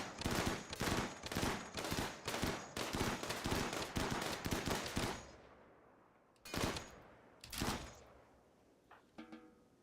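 Slugger turret firing in RimWorld: a rapid run of loud, evenly spaced shots for about five seconds, then a pause and two more separate bursts with faint clicks at the end.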